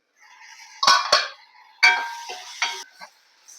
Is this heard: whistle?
no